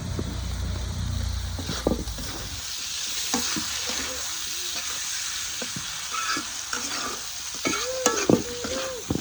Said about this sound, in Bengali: তো এখানে তেলাপিয়া মাছ দিয়ে ফুলকপি দিয়ে রান্না করছি, টমেটো দিয়ে দিলাম।